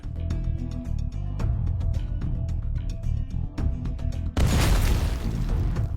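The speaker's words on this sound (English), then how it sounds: "At this moment, explosions sounded again" Loud booming blasts of drone attacks on a battlefield over a dense, continuous rumble, ending in a sudden broadband burst of explosive noise.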